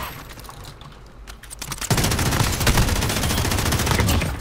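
Rapid gunfire from the video game Call of Duty, a burst of dense shots that starts softly and then turns loud and sustained, crackling steadily to the end with no talk over it.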